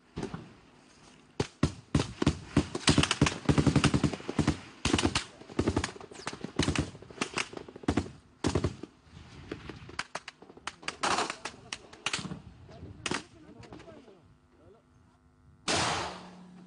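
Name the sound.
gunfire, shots and sniping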